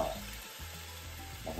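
Vegetables sizzle steadily in a hot pan with bay leaves as they sauté for lentils with chorizo and morcilla, a close, continuous frying hiss with light stirring.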